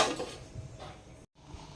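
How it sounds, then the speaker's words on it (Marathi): A metal lid is set onto a pot of boiling amti dal, making a brief clatter at the start and a few soft clinks afterward, followed by a short cut to silence. "आता मी इकडे ठेवते त्याला उकळण्याकरता झाकून"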